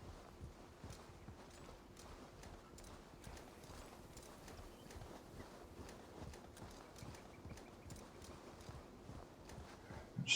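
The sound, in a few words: horse hooves clip-clopping in a video game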